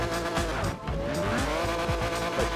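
A race car engine in the Forza Horizon video game revving hard with tire squeal and skidding, loud and continuous, pitch sweeping up and down through gear changes.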